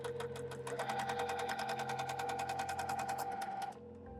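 A sewing machine stitches appliqué onto a quilt in a rapid, even run of close mechanical clatter that stops abruptly near the end.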